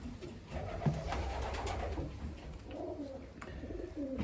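A racing pigeon with white grizzle colouring coos softly and repeatedly while held close, its low throaty calls steady over faint handling noise and room hiss.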